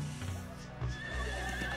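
Cartoon horses neigh and whinny repeatedly in an animated children's series, with clip-clopping hooves and busy background sound throughout.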